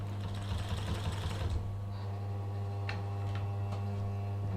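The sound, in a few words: walking foot sewing machine sewing fabric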